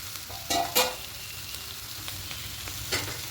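Red amaranth leaves cook in a pan with a soft, steady sizzle, broken by a couple of brief scraping knocks early on and a lighter clink near the end.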